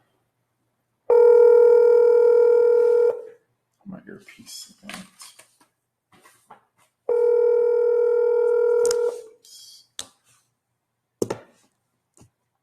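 Two long steady telephone tones dialed from a computer, each held for about two seconds with a pause between, followed by short clicks and a few spoken words from a caller.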